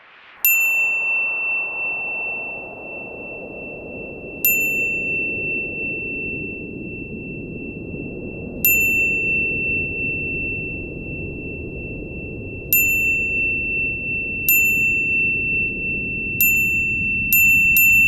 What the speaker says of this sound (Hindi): मेरी घंटी बजती जा रही है। फिर से घंटी बज रही?